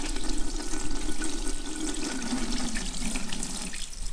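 Sediment water drained from a water heater pours out slowly in a continuous splashing stream, close and steady, like a running tap filling a basin.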